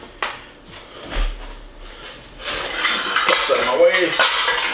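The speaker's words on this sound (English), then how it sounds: "I'm just going to get this whisked together real quick." Eggs, buttermilk and vanilla whisked in a bowl for a pecan buttermilk pie custard filling, heard as close, busy clinking and scraping of a utensil against the dish, picking up into a steady run of rapid strokes in the second half.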